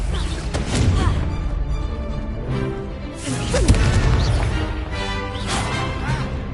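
Confringo spell blasts in a Hogwarts video game, a series of loud booming, crashing bursts in repeated waves amid busy combat effects.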